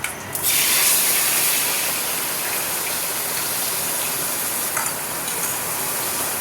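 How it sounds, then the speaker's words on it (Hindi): Cumin and ground onion paste sizzle hard in hot oil inside a pressure cooker, a dense, steady hiss that flares loudly at first, then settles into continuous frying with no talk. "अब थोड़ा सा जीरा डाल के हम इसमें ये जो हमने प्याज पीसी थी, ग्राइंड की थी, ये डाल देंगे।"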